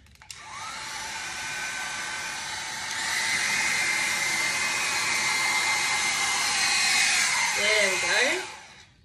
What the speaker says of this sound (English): I'm a bit nervous to use the big hairdryer